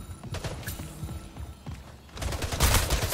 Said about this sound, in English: I hear a lot of shooty bang bangs.